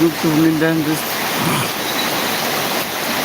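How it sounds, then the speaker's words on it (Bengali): Heavy rain falling in Bhola, Bangladesh, a dense, steady hiss of downpour that stays loud and even throughout, with a voice speaking briefly at the start over it. "আজকে আমাদের ভোলাতে প্রচুর বৃষ্টি হচ্ছে"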